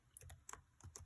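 Keys clatter on a computer keyboard while a function is typed into the Desmos graphing calculator, a few quick taps bunched into short bursts, close and fairly quiet, with no talking.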